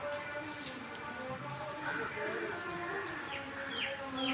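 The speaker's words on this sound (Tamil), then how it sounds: "இருந்தாலும் அந்த பறவை வந்து பழத்தை சாப்பிட்டுட்ருக்கு" A bird calls while feeding on fruit on a town street lined with houses. Faint, scattered chirps rise over a steady outdoor background hum.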